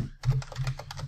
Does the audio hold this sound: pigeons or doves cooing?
no